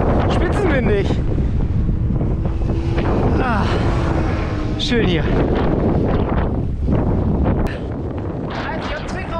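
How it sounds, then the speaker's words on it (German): Strong wind roars continuously over the microphone during a bike ride along a dike, loud and blustery throughout, with a person briefly speaking over it. "Ich meine, hier ist es auch windig, aber da oben war es gerade spitzenwindig."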